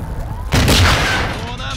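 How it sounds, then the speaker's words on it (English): Mortar rounds strike in a Ground War video game match as a muffled, heavy boom that swells sharply around the middle and fades into a rumbling tail, with a radio voice and other game sounds mixed in underneath. "Friendly mortar strike inbound"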